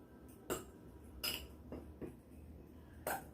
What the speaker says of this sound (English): let me get a fork so I can mix this all up